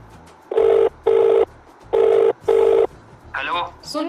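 A telephone rings in four loud, evenly spaced electronic bursts, each under half a second, in a household comedy scene, and a voice then follows right after the last ring.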